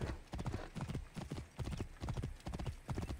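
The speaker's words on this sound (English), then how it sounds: "I'll take the horse now." Horse hooves galloping in Assassin's Creed Origins, a steady rhythmic clip-clop of repeated close, loud hoofbeats in bursts throughout, with no talking over it.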